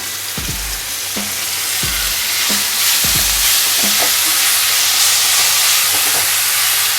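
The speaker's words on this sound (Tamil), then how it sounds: "இப்போ இதில் நம்ம வெட்டி வச்சுருக்க தக்காளி சேர்த்துக்கலாம்." Chopped tomatoes sauté in a pan with ginger garlic paste for a Tamil egg gravy. A steady, close sizzle runs throughout, broken by several sharp clacks and scrapes of a spoon stirring against the pan.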